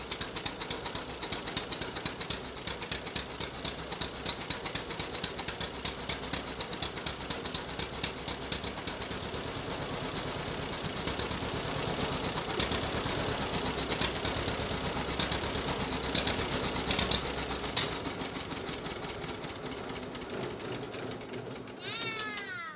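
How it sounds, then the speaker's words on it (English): A 1941 John Deere A tractor engine running out of fuel after the fuel is shut off, a steady close mechanical chugging rhythm that stays loud, then abruptly stops near the end. "Actually sounded like it's starting to run a little smoother when it was running out of gas, just before it died"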